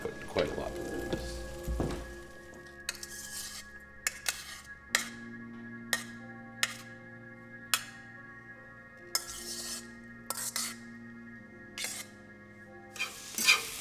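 Spinach cooking in a skillet, a soft sizzle with a steady tone and repeated sharp utensil clinks and scrapes against the pan at irregular intervals, close by, while a person talks.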